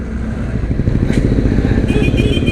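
Loud, steady engine drone and wind rush from a 2021 Mahindra Mojo 300 ABS BS6 motorcycle being ridden hard, with rider shifting around 8000 rpm, buzzing continuously near the mic.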